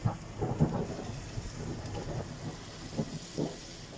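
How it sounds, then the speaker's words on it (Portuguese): Distant thunder rumbles through an afternoon thunderstorm as the storm draws closer, with a few low, soft rolls standing out over a steady hiss of rain. "estamos aqui mais uma tarde com trovoada."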